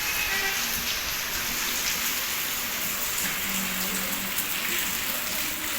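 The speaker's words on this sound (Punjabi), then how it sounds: "ਬਹੁਤ ਜ਼ਿਆਦਾ ਮੀਂਹ ਹੈ" Heavy, steady rain pouring down on a surface, a dense continuous hiss with no talking.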